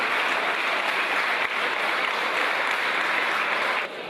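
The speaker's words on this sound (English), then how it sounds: "a big hand of applause for the music and for the delegation of Fiji" Dense, sustained applause from an audience at a reception dinner opening the COP23 leaders summit, loud and steady for about four seconds before dropping slightly at the end.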